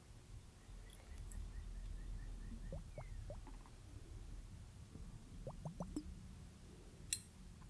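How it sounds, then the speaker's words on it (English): Chilled water facial globes bubble quietly in a hushed ASMR setting, a string of small soft gurgling plops in two brief clusters, closing with a single light clink. "Bubbling noises are my favorite part about them"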